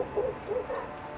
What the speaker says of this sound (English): She's got a dog.